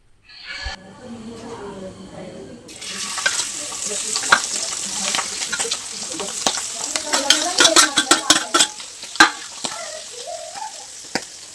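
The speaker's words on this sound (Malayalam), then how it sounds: "അപ്പോൾ അതാ ഞാൻ നന്നായിട്ട് മിക്സ് ചെയ്ത് കൊടുക്കുന്നുണ്ട്" A mixture fries in a pan for a night-time meal, first quiet clatter and then a sudden loud sizzle with sharp spoon scrapes and stirring clicks, close up, with no talking.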